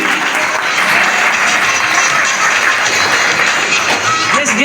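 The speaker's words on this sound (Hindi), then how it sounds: "तालियां।" A school ceremony crowd at a government elementary and high school claps loudly and continuously, a dense, even roar of many hands filling the whole stretch with no pauses.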